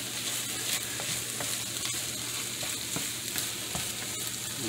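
Pork chorizo and egg frying in a pan, a dense close sizzle with regular scraping taps as the mixture is stirred, steady and even throughout.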